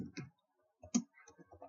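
A few quiet, irregular key clicks, soft taps in small clusters separated by brief pauses, close by.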